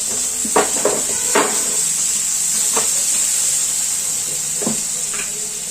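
Chopped tomato going into onions frying with asafoetida and turmeric for a dhaba-style garlic fenugreek dish, giving a steady hiss of sizzling with a few scattered clinks and scrapes of a spoon against the pan.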